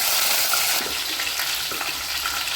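Curry leaves, cumin, fenugreek, green chillies and spices frying in hot oil for fish curry, a continuous dense sizzle that settles slightly softer after the first second.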